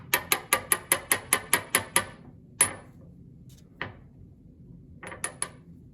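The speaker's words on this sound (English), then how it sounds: "So I just grind this up." Sulfur being ground into powder with an old-fashioned hand tool, heard as a fast run of about nine sharp, evenly spaced scraping clicks, then a few scattered louder strokes with short pauses between them.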